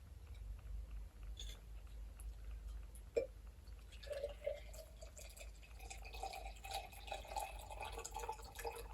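Water pours into a glass jar holding soil dug from the ground, faint wet drips and gurgles building up quietly in the second half.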